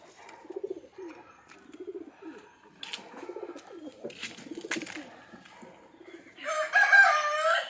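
Country chickens and a rooster at a coop being opened in the morning, with repeated low cooing and clucking calls and a bright, noisy burst of crowing and flapping near the end.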